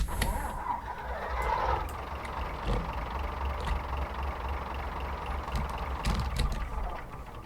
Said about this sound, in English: Now, as this is the Leyland engine, things are going to sound different.